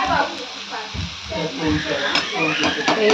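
Potatoes topped with coriander stir-fry in a pan with steady close sizzling and scraping stirs, loud and continuous, with a faint voice briefly in the background.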